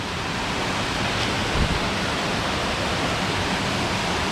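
Phrom Lok waterfall near Khiri Wong village in Nakhon Si Thammarat roars with rushing water, a dense, constant hiss that fills the scene close up and stays steady throughout.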